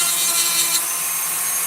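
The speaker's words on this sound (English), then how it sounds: "It's very patient work when you're doing it with a sander." A power sander works on wood, giving a steady, loud, hissing whir with a bright abrasive edge that runs unbroken throughout, with no voices.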